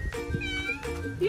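Kittens meow in a few short, high, close-up cries over about a second, with a voice speaking faintly in the background.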